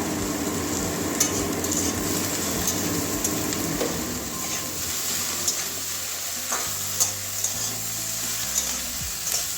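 Eggplant with turmeric fries in a pan while a utensil stirs and scrapes through it, a close, steady sizzle broken by repeated scraping strokes, with no voices.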